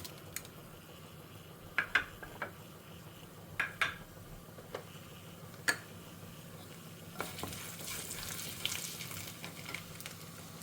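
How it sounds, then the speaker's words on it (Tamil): Mustard seeds, urad dal and chana dal crackle in hot coconut oil during a tempering for lunch, with scattered sharp pops and a few utensil clinks, then a denser sputtering crackle toward the end. "பொரியட்டும் கடுகு பருப்பு செவக்க ஆரம்பிச்சுட்டு"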